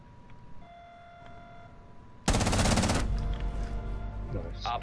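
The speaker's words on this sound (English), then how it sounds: "I just hid then when he was shooting because I knew he'd have to reload" Rainbow Six Siege gunfire: after a quiet stretch with soft electronic beeps, a sudden loud burst of rapid automatic shots breaks out and is followed by further scattered shooting and game noise.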